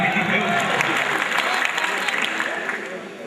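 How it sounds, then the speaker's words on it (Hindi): Audience applause fills a mushaira poetry gathering in Saharanpur: dense, steady clapping from a large crowd that holds at full strength before easing slightly, with a few voices mixed in. "दोस्तों अगर पहुंच गए आप जुमला तो ताली बजा दें।"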